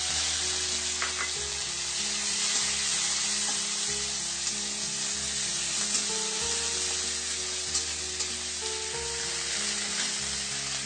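Mushrooms, capsicum and mixed vegetables fry in a hot pan with a loud, continuous sizzle, and faint scraping stirs cut in now and then.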